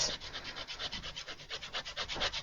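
Lemon zest is grated with a small grater straight onto flour for a lemon drizzle traybake, a quick rhythmic run of rasping strokes, close and even, with no voices.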